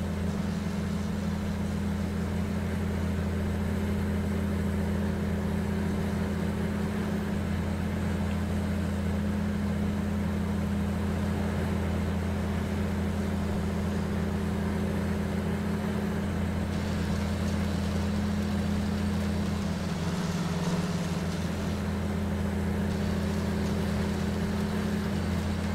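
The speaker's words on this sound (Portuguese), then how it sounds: "Esse trator aí é mod." A modded tractor engine in Farming Simulator 19 drones at a steady low idle throughout, a constant hum with a faint shift in tone partway through and no voices.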